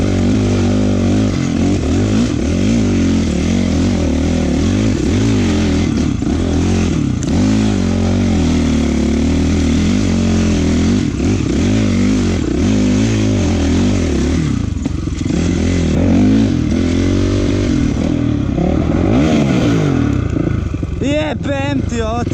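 A Honda CRF 450 dirt bike revs hard and loud through water, its engine rising and falling over and over with clattering and scraping mixed in.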